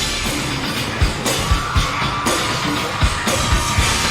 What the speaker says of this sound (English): Why are they screaming? They're not enjoying the show.